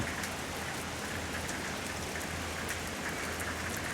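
Steady rain falls throughout a morning in Somdet district, a dense, even hiss of drops striking surfaces that continues unbroken for the whole stretch with no voices.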